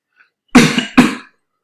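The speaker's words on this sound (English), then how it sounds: "I do apologize for any coughing." Two quick coughs in a row, close and clear, in otherwise silence.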